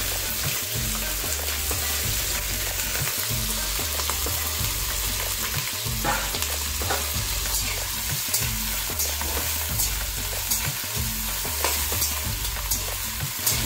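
Pieces of pointed gourd and eggplant frying in oil in a pan with salt and turmeric, a continuous loud sizzle with stirring scrapes throughout and no talking.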